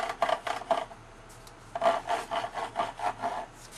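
A hardwood Zooky bar is played against a Stradizooky box, giving a series of rhythmic rasping rubs, a few strokes, a short pause, then a longer run of steady strokes, close and moderately loud with no talking.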